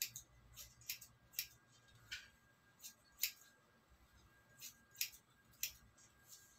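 Sharp, quiet snips of scissors cutting long hair, coming irregularly about a dozen times, each a brief crisp click against near silence.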